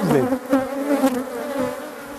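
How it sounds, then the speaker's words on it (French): Agitated honeybees buzz loudly around an open hive full of brood, a dense, close, wavering drone with pitch swells as individual bees pass near, with no talking over it. "j'ai bien fait de m'habiller parce que les abeilles"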